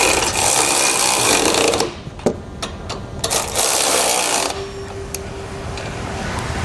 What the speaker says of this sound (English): come back with a 19mm socket, tighten these down